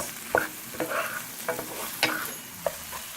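Shrimp sizzle in a pan with coconut milk as a spatula turns them, giving a soft frying hiss broken by a few distinct scraping strokes.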